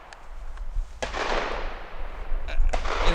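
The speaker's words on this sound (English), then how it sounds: "All right, again, 3 rapid shots." Rapid pistol shots at a shooting range, a few sharp cracks fired in quick succession with a loud, echoing tail, heard near and fairly loud.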